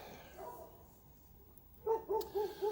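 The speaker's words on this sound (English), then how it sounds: "those dogs are going crazy because of me now" Neighbors' dogs barking outdoors, four loud rhythmic barks in quick succession near the end, after a quieter stretch with faint distant yelps.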